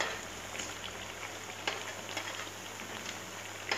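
Cabbage vadas frying in hot oil, a steady soft sizzle with fine crackling bubbles and occasional pops, fairly quiet and continuous with no talking.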